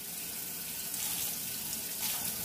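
Tap water runs steadily while a compact Sboly coffee maker part is rinsed out in a kitchen sink, a continuous close hiss of splashing water with no talk.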